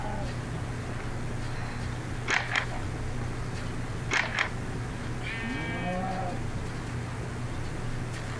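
Cows mooing in the Minecraft video game, a short harmonic low call near the end following a few clicky in-game sounds over steady background music.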